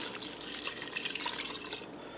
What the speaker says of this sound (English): Alright, now I have 3 cups of beef broth.